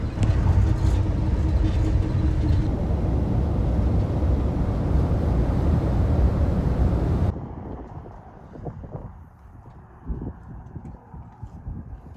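A car drives on a road beside a dam after leaving Zion National Park, with a loud steady rumble and wind noise that drops suddenly to a quieter interior hum with light bumps.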